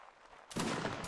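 A musket volley in a Napoleonic line-battle match of Mount and Blade, a sudden broad blast of many shots fired together that sustains briefly after a quiet lead-in.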